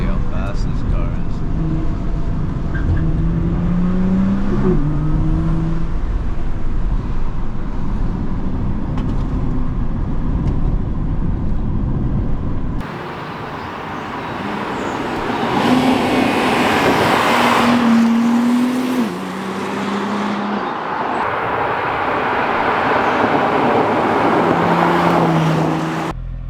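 An Italdesign Nissan GT-R50, a 710 hp limited-run version of the R35 GT-R, accelerates hard from inside the cabin, its engine and road roar rising and shifting through gears under continuous talk.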